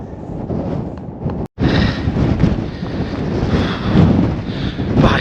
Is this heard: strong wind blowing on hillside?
yes